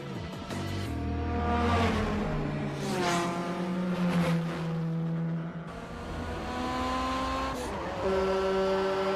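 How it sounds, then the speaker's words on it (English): A turbocharged 1993 Honda Civic EJ1 in GTA Online revs and shifts through gears, engine pitch repeatedly climbing and dropping, loud and close, with a turbo blow-off between shifts. "I kind of wanted to add a turbo, just kind of get that blow off."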